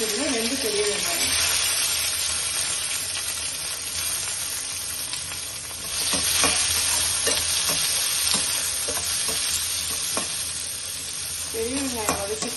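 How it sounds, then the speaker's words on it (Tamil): Large onions with a little salt sizzle steadily in a hot pan while a spoon stirs and scrapes now and then, a continuous close frying hiss. "பெரிய வெங்காயம் வதக்கிட்டு இருக்கும்போது கொஞ்சோண்டு உப்பு ஆட் பண்ணிக்கிறேன்."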